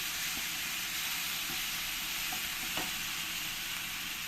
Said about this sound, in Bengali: এবার এইগুলি দিয়ে আমি একসঙ্গে ভালো করে কষিয়ে নেব